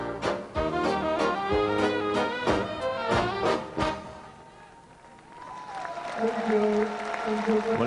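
Crowd applause rings out for ballroom dancers at the 2000 World Amateur Ballroom Standard Championships, with clapping and music under a commentator who speaks as the applause fades.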